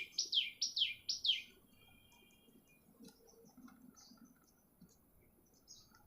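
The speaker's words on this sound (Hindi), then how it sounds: "यहां पे चिड़िया बोल रही है मेरे पास।" Bird chirping near a village home, three quick sharp tweets up close at the start, then faint scattered chirps and soft background noise.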